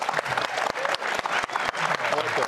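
A studio audience on a live talk show claps for a guest in the shoe contest, a brisk burst of mixed clapping and crowd noise with some voices chattering underneath.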